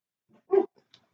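A dog gives a single short bark near the mic, with a few faint yips and whimpering sounds around it in an otherwise quiet room.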